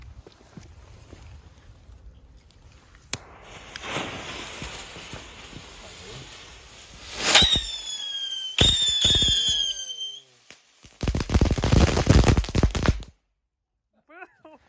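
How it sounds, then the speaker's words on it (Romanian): Firework fountain sticks hiss after lighting, then erupt in loud crackling bursts and whistling streams that fade to quiet, with a brief voice near the end. "Avem două bețe care par ca și niște artificii, dar cred că o să facă ca un vulcan."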